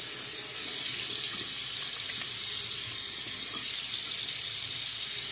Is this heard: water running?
yes